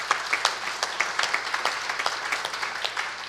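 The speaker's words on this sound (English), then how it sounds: "give a round of applause for Tim" A small audience gives a round of applause, a steady patter of hand claps from a room of people lasting a few seconds, fairly close and even in loudness.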